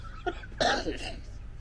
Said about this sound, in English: And cough. That sounds healthy.